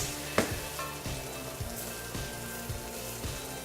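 Seitan cooking in a pan, a steady soft sizzle with a regular series of low thumps and scrapes roughly every half second, close and quiet, with no voices.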